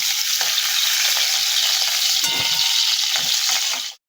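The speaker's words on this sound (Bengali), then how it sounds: "পটলটা ভাজা হয়ে গেছে পটলের গায়ে একটা লাল লাল ডাল উঠে গেছে এইবার পটলগুলো আমি কড়াই থেকে তুলে নেব" Pointed gourd (potol) pieces frying in hot oil in a wok (kadai) make a loud, continuous, crackling sizzle up close, with stirring clatter, until the sound cuts off abruptly.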